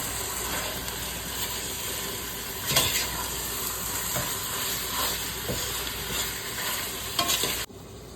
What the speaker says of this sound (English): now I'm just gonna add it to my onion garlic and just let it cook